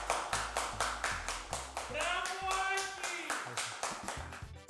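A person in a kitchen claps hands in a quick, regular series of sharp close claps, with a brief tonal voice sound mid-way between them.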